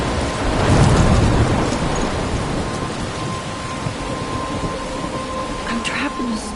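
Thunderstorm in the game Life is Strange, with steady heavy rain and a deep rolling rumble of thunder swelling early, then continuing under the downpour, loud and close.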